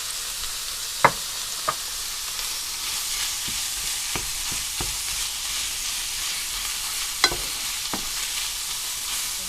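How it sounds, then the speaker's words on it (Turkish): Minced meat fries in its own fat in a pan, a steady broadband sizzle running throughout with a few sharp clicks of a spoon stirring against the pan, close and fairly quiet. "kalan yağıyla kavuracağım. Aynı yağda."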